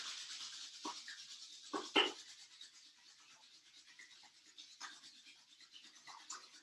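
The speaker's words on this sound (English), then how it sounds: "Rub the hands together vigorously, building heat in the palms." Palms rub together vigorously during a yoga session, a close, soft brushing friction in several quick bursts with short pauses between, fairly quiet overall.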